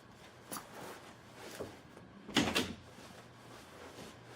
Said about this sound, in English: I swear, these fucking doors.